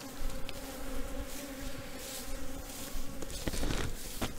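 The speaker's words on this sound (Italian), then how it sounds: "c'è uno scatafascio d'api" Dense swarm of honeybees buzzing steadily around a hive during queen rearing, a continuous close hum with no talk.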